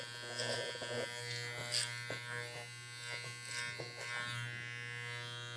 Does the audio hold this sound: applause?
no